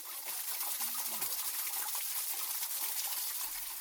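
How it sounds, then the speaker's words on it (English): Mountain spring water trickling out between trees and rocks in a valley, a steady, fairly quiet babble and splash with no voices. "In the valley, between trees and rocks, crystal clear mineral water emerges."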